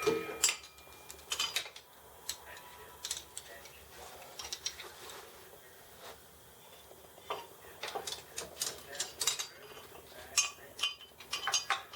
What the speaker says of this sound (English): now I'm going to attach the bracket. It's got three bolts